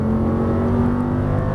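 Audi R8 on a Las Vegas racing track, engine held at full throttle with a loud, steady high-revving drone and no talk over it.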